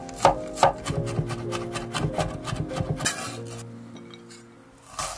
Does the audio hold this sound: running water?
no